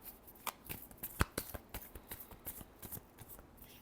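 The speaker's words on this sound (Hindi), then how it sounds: "Last shuffle." Tarot cards are shuffled close up in a quiet room: a quick run of crisp riffling flicks and soft slaps, with one sharp snap near the middle and no talk.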